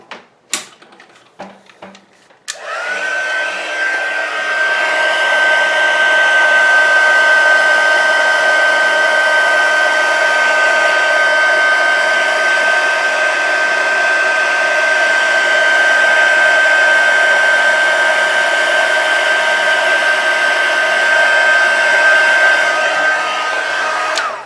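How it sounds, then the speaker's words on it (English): An embossing heat gun blows a loud, steady whirring hiss up close for over twenty seconds, melting clear embossing powder on a stamped birthday card, after a few brief clicks at the start. "Let's get our heat tool stuck on the hook."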